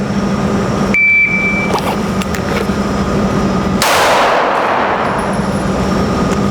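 A handgun fired during a draw speed drill at a range, one sharp loud shot ringing out near the middle, over constant outdoor background noise.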